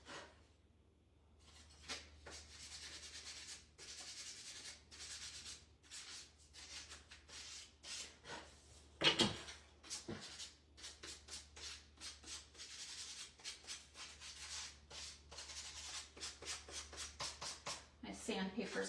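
Sandpaper rubbing the edges of a wooden chalkboard sign to distress it, a soft scratchy back-and-forth scraping in repeated short strokes, fairly close, with a sharp knock midway and a low hum underneath.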